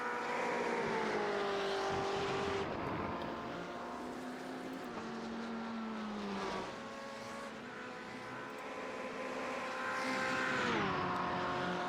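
An LMGT race car engine roars through Blanchamont at Spa, a steady loud drone rising and falling with gear changes as the car passes, with no talking.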